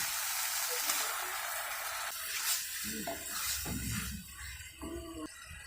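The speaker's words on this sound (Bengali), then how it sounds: "এখন আমি এর মধ্যে দিয়ে দিচ্ছি টমেটো কুচি" Chopped tomato sizzles in a hot spice masala for mustard pabda fish curry, a bright steady frying hiss broken by spoon stirring and scraping in the pan.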